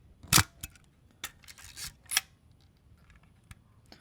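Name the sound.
Zenit EM film SLR camera shutter firing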